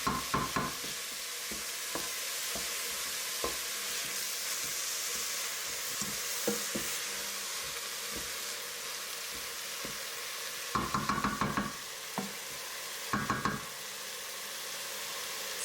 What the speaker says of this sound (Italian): adesso lo sfrigolio è diventato meno perché si stanno cuocendo le verdure